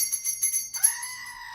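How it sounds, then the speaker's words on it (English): A goat-bleat ringtone sounds from a phone, a short wavering bleat with a bright chiming tone, fairly close and alone. "Goat phone."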